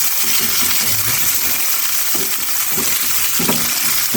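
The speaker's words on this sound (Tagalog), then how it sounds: "Gisa po muna natin ito." Tomato and onion, with ginger, sautéing in a pan before tilapia goes in: a steady close sizzle and hiss of frying throughout, with a few stirring scrapes and clinks of a utensil.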